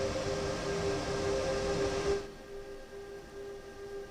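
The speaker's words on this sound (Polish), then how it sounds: "Czemu oni dodali to takie brzęczenie w tych 185?" Electric buzzing from a BR 185 locomotive in Train Sim World 5, a steady tonal hum under rolling rail noise that drops off abruptly about halfway through, leaving a quieter background.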